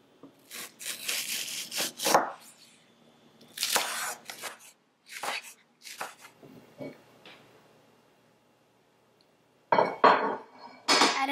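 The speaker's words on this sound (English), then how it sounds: "So now I'm going to chop up some green onion." Green onion being chopped with a knife on a wooden board, a run of crisp, close knife strokes in bursts with short pauses, a longer quiet gap, then a final quick flurry of cuts.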